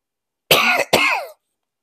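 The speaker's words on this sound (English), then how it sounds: "Coughing break." Two short, harsh coughs in quick succession, close and fairly loud, followed by silence.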